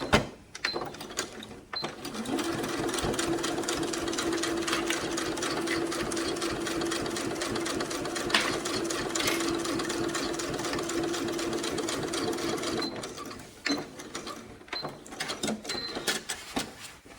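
A sewing machine stitches a zipper onto fabric, beginning with a few short stops for a backstitch and then running in a steady, rapid, close mechanical chatter for about eleven seconds before slowing and stopping.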